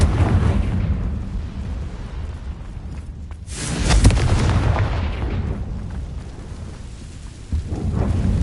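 A Confringo explosive spell going off in Hogwarts Legacy, one loud booming blast rising out of a rumbling game soundscape and then fading into a low roar, with no speech.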